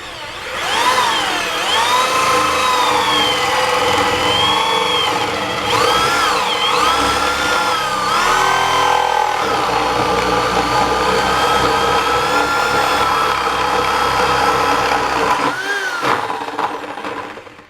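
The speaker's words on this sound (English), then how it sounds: "turn the drill on" A power drill with a one-inch spade bit bores through wood in a loud, sustained whine that dips and rises in pitch as the bit bites and frees, then winds down at the end.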